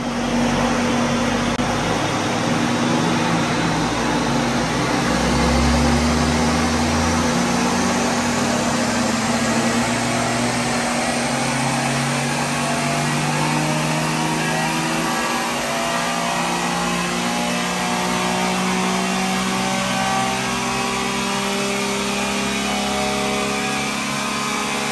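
A Suzuki Carry mini truck's engine runs steadily on dyno rollers, a loud continuous mid-range drone with rising and falling revs and a constant whine from the spinning rollers, with no talking.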